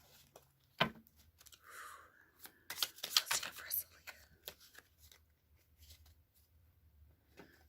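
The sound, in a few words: shuffling tarot cards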